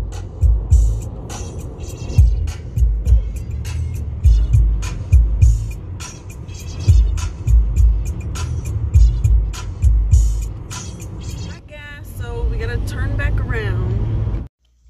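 A car drives along the road, with low engine rumble and road noise coming from inside the cabin. Irregular knocks and clicks recur throughout, and people talk over it toward the end.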